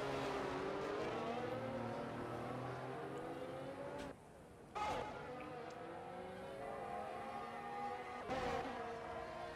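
Race cars in F1 22 on the Abu Dhabi circuit, engines whining as they rise and fall in pitch through shifts and passes, one brief dip in the middle, with commentary voices faintly underneath.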